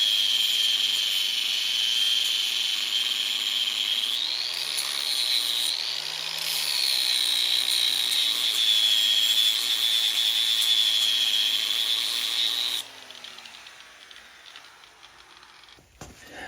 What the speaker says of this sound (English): we've been grinding a lot, taking several thousandths off there and several thousandths off there